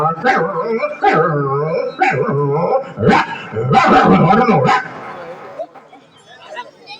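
A person imitates dogs barking, giving a run of close, loud yapping barks and whimpers that trail off into quiet.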